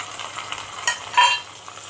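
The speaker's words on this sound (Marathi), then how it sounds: "बघा, आता हे टॅमॅटो त्याच्यामध्ये टाकायचे" Tomatoes drop into a pan of browning onions for a chicken gravy, giving a brief rising sizzle and stirring scrape over a faint, steady frying hiss.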